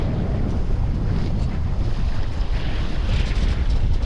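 Strong wind and heavy swell with waves up to three metres batter a sailing boat off Anglesey, a loud continuous roar of rushing water and wind buffeting the microphone without pause.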